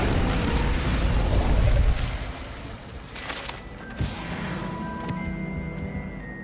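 Incendio fire spell cast in Hogwarts Legacy, a dense whooshing, crackling rush that fades into a sharp pop and a lingering ringing shimmer, without any talk.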